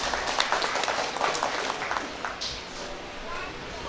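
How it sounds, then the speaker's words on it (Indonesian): Audience applause at a church building celebration in Medan, a steady wash of clapping from a crowd that is loud at first and then thins and softens, with talk mixed in. "Tepuk tangan untuk Pak Bobi."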